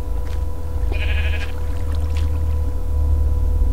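A sheep in the Minecraft video game gives one short, clear bleat near the middle, over a steady low background hum, with no talking.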